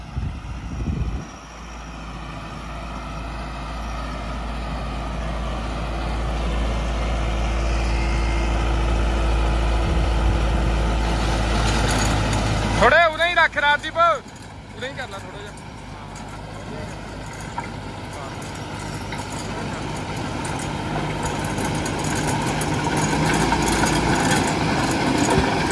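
A 655 CRDI tractor engine drones steadily while pulling a 10-foot rotavator, a loud low rumble that shifts partway through as a rattling, whirring load cuts in, then settles back to a continuous working hum.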